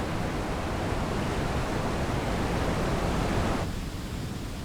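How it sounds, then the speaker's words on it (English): A waterfall of fast-running water makes a steady, dense, roaring rush that fills the whole clip evenly, with no voices. "A waterfall."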